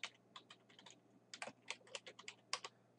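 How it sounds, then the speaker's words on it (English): Quick bursts of typing on a computer keyboard while entering a name into an Excel 2013 spreadsheet, irregular clusters of crisp clicks close up over a faint steady hum, with no talking. "so let's type in"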